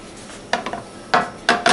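A pan clatters onto a stovetop in a home kitchen while rendering chicken fat, three separate metallic knocks and scrapes, close and fairly loud, over a quiet background.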